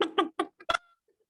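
A voice imitates a hen clucking with a quick series of five short, clipped syllables in an uneven rhythm, followed by a couple of faint trailing sounds.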